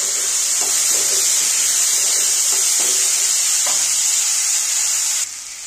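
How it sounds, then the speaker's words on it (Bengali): Carrots and peas fry in a pan, giving a steady, loud, continuous sizzle with a few faint clinks of stirring mixed in; the hiss drops off abruptly near the end. "গাজরটা একটু লাল লাল করে ভেজে তারপর আমি মটরশুঁটিগুলো দেবো"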